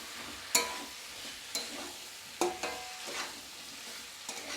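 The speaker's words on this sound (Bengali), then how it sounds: "সমস্ত সবজি আমি মশলার মধ্যে ভালোভাবে মিশিয়ে আমি 3 থেকে 4 মিনিট এটা ভালোভাবে কষিয়ে" Mixed vegetables are stir-fried in spice masala in a pan, a quiet bed of sizzling broken by several distinct spatula scrapes and clacks at irregular intervals, with no voices.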